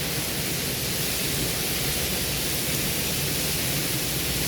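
Heavy rain storm pouring down outside, a steady dense roar of rainfall that stays loud and constant throughout with no voices.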